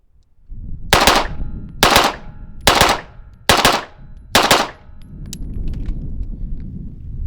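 Five sharp handgun shots at target practice, evenly spaced about a second apart, each loud and close with a short ringing tail, followed by steady outdoor background rumble.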